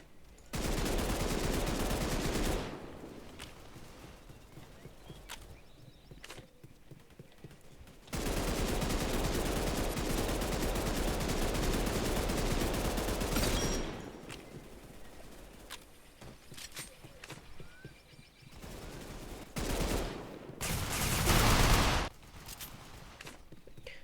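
Gunfire from a video game with odd weapons: long sustained bursts of rapid automatic fire, loud and close, broken by short pauses, scattered single shots and a final fierce burst.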